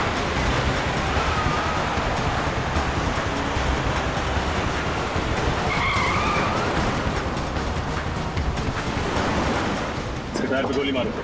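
A car racing along at speed near the sea, a loud continuous roar with wind-like rush and a brief tire skid, voices talking over it toward the end.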